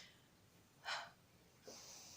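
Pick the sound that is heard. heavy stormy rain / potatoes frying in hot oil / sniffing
sniffing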